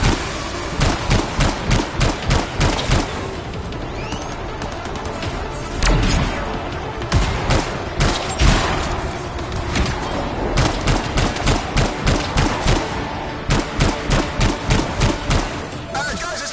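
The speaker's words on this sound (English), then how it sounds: "Not if I shoot them first." Sustained bursts of gunfire from the video game Anthem, rapid repeated shots in steady rhythm with brief pauses, loud and close, with speech mixed in.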